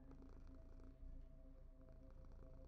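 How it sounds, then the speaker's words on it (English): A cat purring in the video game Constellation Box gives a faint, steady, pulsing low rumble that runs without a break and with no voices over it. "I love cat purring."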